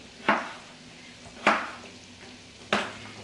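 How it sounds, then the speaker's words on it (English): Butter, bacon and onions fry in a pan for homemade potato bacon soup. A soft, steady sizzle runs underneath three evenly spaced scraping stirs of a utensil against the pan, heard close with no talking. "when you have butter and bacon and onions frying"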